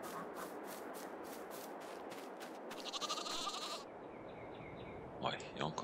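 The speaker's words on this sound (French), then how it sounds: "Les moutons." Sheep bleat in the Farming Simulator 22 video game. Several short calls sound at a moderate distance over a steady farm ambience, along with a brief mechanical whir and a few clicks. No one speaks.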